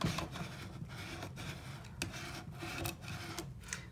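Vinyl letters being burnished down onto a tile with a rubbing tool give off a steady, close scraping and rasping, a run of repeated strokes with short pauses between them.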